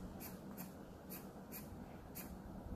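Oil pastel crayon strokes scratch across paper in a drawing and colouring session, about six soft, evenly spaced rasping swipes over a quiet background hiss.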